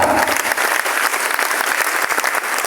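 A live audience bursts into loud, sustained applause, dense clapping filling the room steadily throughout with a few sharper claps standing out near the end.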